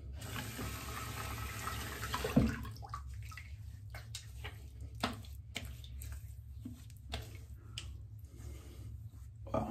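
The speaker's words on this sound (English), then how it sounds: "let me rinse my face" Tap water splashes at a bathroom sink as a face is rinsed after a wet shave, a steady running stream with brief sharper splashes and handfuls of water throughout.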